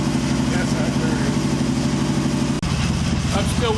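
An Excelsior Henderson Super X motorcycle engine idles while warming up, with a steady, loud, low pulsing throb, one brief dip near the end, and a person talking over it.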